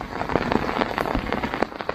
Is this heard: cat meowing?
no